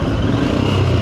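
Royal Enfield Himalayan engine revving briefly after a missed gear on a road ride, a short loud burst of rough, throbbing engine noise.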